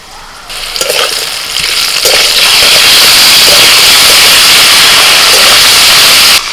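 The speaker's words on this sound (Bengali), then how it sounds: "আলু কুমড়ো ভেজে নিয়ে আদা কাঁচা লঙ্কা বাটাটা দিয়ে দিচ্ছি।" Potatoes and pumpkin fry in a pan as ginger and green chili paste goes in, a loud, close sizzle that surges after the first second and holds steady, with occasional stirring scrapes.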